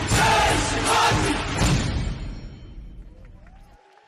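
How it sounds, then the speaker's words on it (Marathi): Audience applause at a Maharashtrian folk dance show, a dense, loud wash of clapping from a large crowd that gradually fades over several seconds to near silence. "टाळ्या अजून जोरात थोडा व्हायला पाहिजे असं वाटतं का आपल्याला?"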